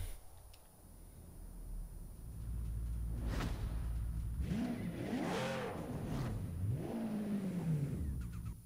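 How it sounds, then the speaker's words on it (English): A Ferrari 599 V12 engine in a Formula Drift video game revs up and roars, its pitch climbing and dropping in loud sweeping surges over a steady low rumble. "that Ferrari V12 sounds mean"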